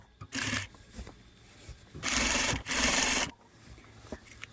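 A sewing machine stitches a straight seam on a custom tailored bedskirt. It runs close and loud in short whirring bursts: one brief run, then two longer runs back to back, with quiet pauses between them.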